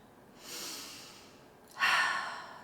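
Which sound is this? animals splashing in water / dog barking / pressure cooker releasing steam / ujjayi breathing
ujjayi breathing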